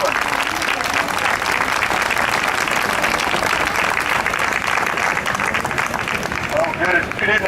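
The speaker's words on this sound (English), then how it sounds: "round of applause for Douglas Chapman," At a street demonstration outside Downing Street in London, a crowd gives sustained, dense applause for an MP, steady loud clapping from many hands, with voices and a few cheers mingled in.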